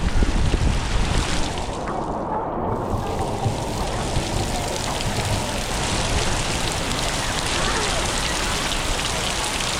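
Steady, heavy rain pours down in a continuous, close hiss of drops on surfaces, unbroken throughout with no pauses.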